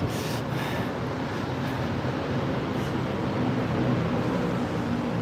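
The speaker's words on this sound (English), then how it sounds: "Here comes the train." A train passes through dense elevated city sprawl in Bangkok, a steady broad rumble and roar holding at a constant level throughout with no voices over it.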